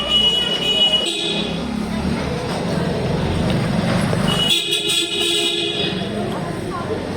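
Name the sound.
vehicle approaching from behind, honking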